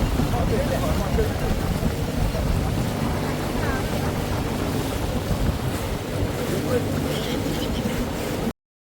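A boat speeds along a river near a village outside Varanasi, with a constant loud roar of engine, rushing water and wind buffeting the microphone throughout.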